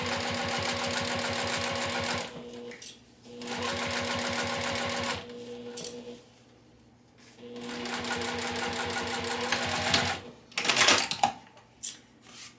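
Sewing machine top stitching along a folded fabric edge for a travel pouch, running in several steady rapid bursts of a few seconds each separated by short pauses and handling noises, close and clear with no talk.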